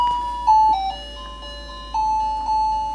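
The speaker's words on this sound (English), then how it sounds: "that little music thing right there he keeps pressing is driving me crazy" A child's toy music button pressed again and again, each press setting off a short, bright electronic chime melody with sustained tonal notes, close and fairly loud, restarting in bursts.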